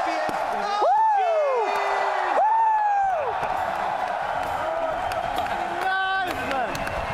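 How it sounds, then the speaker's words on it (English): A large crowd at a Dota 2 International 2018 championship ceremony roars and cheers continuously, with loud whoops and rising shouts over the noisy background. "give the biggest round of applause to your TI 2018 champions"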